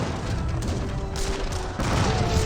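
A cannon and grenade launcher battle in Age of Empires 3 produces a dense, continuous rattle of gunfire and booms, with volleys overlapping and a louder burst near the end.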